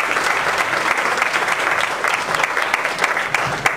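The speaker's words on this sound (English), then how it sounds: "let's give a round of applause for Shauna Nicholson" Audience applause at a talk event, a dense, steady clapping from a crowd that stays loud and even for several seconds with no speech over it.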